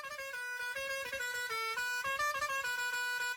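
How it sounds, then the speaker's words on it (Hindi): A car horn sounds steadily for several seconds as the vehicle approaches at speed, a loud, continuous high-pitched tone with slight shifts in pitch. "जब कोई गाड़ी हॉर्न बजाते हुए स्पीड में तुम्हारे पास आती है तो तुम्हें हॉर्न की आवाज हाई पिच में सुनाई देती है"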